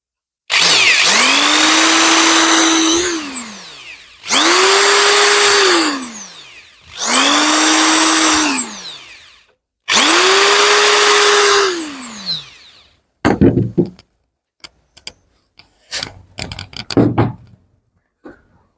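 A power drill with a 3-3.5 mm bit bores holes into a PVC window frame in four separate loud whining bursts, each spinning up and winding down. Rattling and knocking follow after the last burst.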